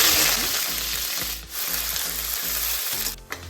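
Whole cumin, dried red chilies, bay leaves, cardamom and cinnamon sizzle steadily in about three spoons of hot mustard oil, a dense continuous frying hiss with faint stirring clinks, close and alone.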